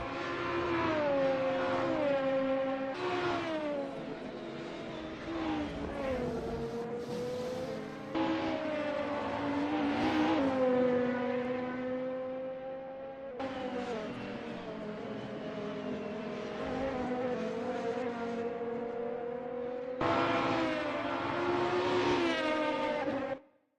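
A Volvo S40 BTCC touring car in a sim racing game at the Sachsenring, its engine revving and droning steadily as it climbs through the gears, with short breaks at each shift across a continuous lap.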